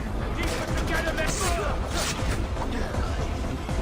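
Gunfire in the video game Far Cry 4, dense bursts of shots and crashes running loud and continuous under a player's talk.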